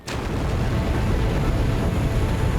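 A massive explosion at a butadiene chemical plant opens with a sharp blast, then gives way to a sustained, loud, broadband roar and rumble that fills the remaining seconds with no voices.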